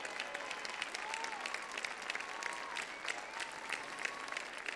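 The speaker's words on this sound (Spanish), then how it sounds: "Un fuerte aplauso para ellos." Audience applause rings out for a group of folk musicians and dancers performing traditional Aragonese songs at a Pilar festival show, a steady, dense clapping that stays fairly even and distant throughout.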